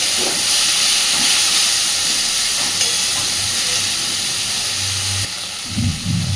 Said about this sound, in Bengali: গ্যাসের ফ্লেমটাকে মিডিয়ামে রেখে একটু সময় নিয়ে সুন্দর করে সব কিছুর সাথে কাঁচকলার খোসাটাকে ভাজতে থাকবো